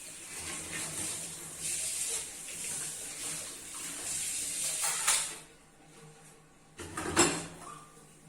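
Tap water runs into a kitchen sink while lunch dishes are scrubbed and rinsed, a soft steady hiss broken by a pause and a brief clatter near the end, fairly quiet and close.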